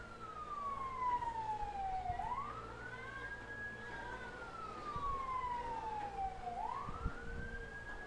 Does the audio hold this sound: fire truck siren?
yes